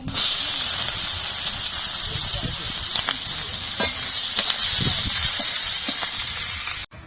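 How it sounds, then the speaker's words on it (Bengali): Steady, loud sizzling of chopped onions frying in hot fish-frying oil with whole garam masala, a constant hiss with scattered small pops and crackles, cutting off abruptly at the end. "এবার এই মাছ ভাজার তেলে গোটা গরম মশলা ফোড়নে দিয়ে দিচ্ছি। তারপরে দিয়ে দিচ্ছি কুচানো পেঁয়াজ।"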